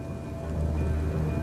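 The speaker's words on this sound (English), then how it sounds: "Weeks of unrelenting downpours drench the landscape." Heavy seasonal rain pours down over the savanna landscape in a dense, steady roar of broadband noise that stays constant and fairly close throughout, with no voices.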